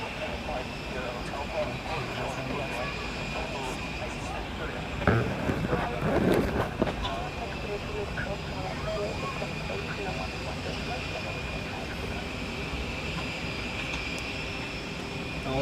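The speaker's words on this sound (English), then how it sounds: "That was the Egypt Air 737" An Egypt Air Boeing 737 airliner at Zurich Airport gives a faint, distant, continuous jet-engine roar mixed with wind noise, swelling briefly midway before leveling off.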